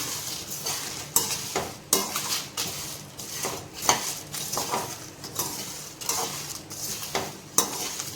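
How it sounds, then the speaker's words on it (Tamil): Garam masala spices dry-roast in a pan over a medium flame, with steady scraping and stirring and sharp clinks of a utensil against the metal at irregular intervals, faint and without talk. "ஸ்பைசஸ் எல்லாம் ரோஸ்ட் ஆகிற வரைக்கும் மீடியம் ஃப்ளேம்லேயே தான் வச்சு வறுக்கணும்"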